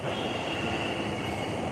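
A train passes on elevated tracks near Shinjuku in Tokyo, heard from street level underneath as a steady, loud rumble with squealing wheels and a continuous high metallic whine throughout.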